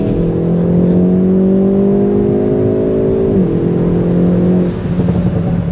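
Hyundai i30N with a DCT gearbox pulling hard in N mode with overboost, its engine note climbing steadily, then dipping sharply at a quick gearshift before rising again, loud and close from inside the cabin.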